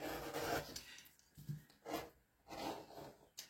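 A utility knife slices through fabric during a sewing cutting session, giving several short, separate rasping strokes with quiet pauses between them, close by and fairly soft.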